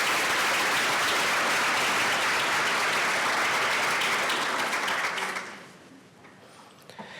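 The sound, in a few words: audience applause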